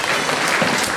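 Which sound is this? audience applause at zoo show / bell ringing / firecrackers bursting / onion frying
audience applause at zoo show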